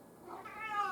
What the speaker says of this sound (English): Sorry for the cats in the background making noise.